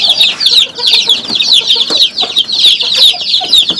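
Free-range village hens cluck among day-old chicks in a coop, dense, continuous high peeping over lower clucks, close and loud, with no voices.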